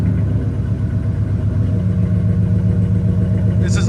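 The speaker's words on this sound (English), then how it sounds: "This is idle on it, guys." A 2000-2005 Ford Excursion with a 5.4L V8 and Flowmaster 50 Series exhaust idles up close with a deep, steady, throbbing rumble that continues throughout.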